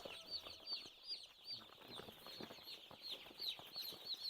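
A brood of chicks of different breeds, including Redbro, Master Grey and Grisbar, peeps softly and continuously, high-pitched chirps repeating faintly with light rustling.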